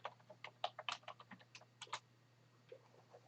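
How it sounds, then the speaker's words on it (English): Quick bursts of close, crisp keystrokes tap out a short word on a computer keyboard over a faint electrical hum, then trail off into a few scattered clicks. "we can just type chronic"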